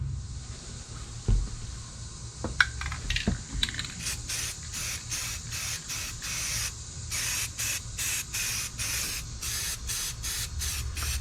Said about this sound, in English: I'm gonna go ahead and shoot some paint on it.